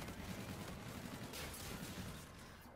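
Rapid hip-fire gunshots from an overpowered rapid-fire gun in a video game form a dense, continuous burst that stays loud throughout before easing slightly near the end, with no talk over it.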